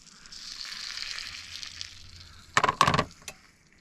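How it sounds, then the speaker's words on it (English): Bacon sizzling in a hot pan while a spicy bacon peanut butter and jelly sandwich is toasted in a camper van, a soft steady hiss followed by a few sharp, louder crackles and pops up close. "That bacon is sizzling."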